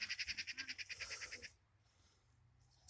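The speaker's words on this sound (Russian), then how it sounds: "Сорока вон где-то хохочет." A magpie chattering outdoors on a hot day, a rapid, fairly loud run of about a dozen harsh, evenly spaced notes that ends abruptly after a second and a half, leaving quiet background.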